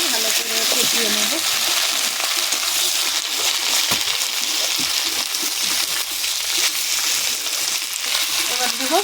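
Ginger, garlic and green chilli paste fries in a pan with a loud, steady sizzle, and occasional stirring scrapes sound close by throughout.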